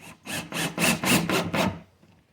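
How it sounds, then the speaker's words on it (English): Drywall screws are driven into a wooden subwoofer box, a power driver whirring in a run of six rough pulsing bursts that wind down at the end, close and fairly loud with no talk. "I go ahead and use my favorite box building screws"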